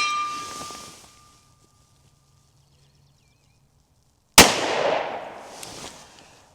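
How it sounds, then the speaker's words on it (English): A single sharp, loud shot from a Smith & Wesson M&P 2.0 carry comp pistol firing a Sig V-Crown 10mm round outdoors, bursting after a quiet stretch and trailing off in a decaying echo. "Let me start the slow motion camera and get a shot on target."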